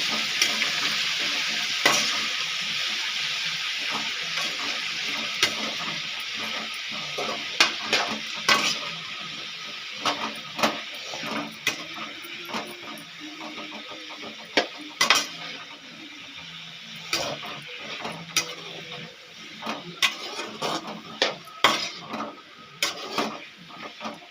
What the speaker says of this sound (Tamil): கொஞ்சமாக உப்பு போட்டு ரெண்டு வதக்கு வதக்கிக்கலாம்